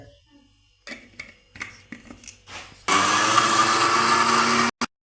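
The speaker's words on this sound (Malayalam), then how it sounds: "ഇത് നമ്മൾ അരയ്ക്കാൻ പോവുകയാണ് മിക്സിയിലോട്ടിട്ട്." A kitchen mixer grinder whirs loudly and steadily for about two seconds, grinding a thick taro (cheema chakka) curry paste with no water added, preceded by faint clatter and knocks.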